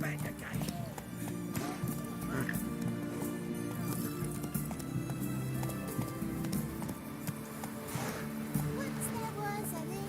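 A horse gallops in The Witcher video game, its hoofbeats a steady clip-clop running through the whole stretch beneath game music and ambience, with someone speaking at moments.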